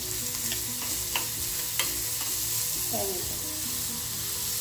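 Grated carrot and beetroot stir-fried in a pan, giving a soft steady sizzle with a few scraping stirs of a spoon, fairly quiet and close.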